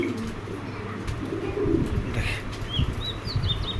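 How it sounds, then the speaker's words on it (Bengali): Yellow fantail pigeons coo low and steadily close by while wings flap in brief bursts, with a few thin chirps higher up and no talking. "এক জোড়া টপ কোয়ালিটির ইয়েলো ফ্যান্টেল দেখেন"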